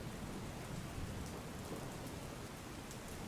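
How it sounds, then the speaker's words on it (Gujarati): Steady rain pours down in Sabarkantha district, Gujarat, a dense continuous hiss of falling water with no voices, even and unbroken throughout. "વહેલી સવારથી જ ઝરમર વરસાદ વરસી રહ્યો છે"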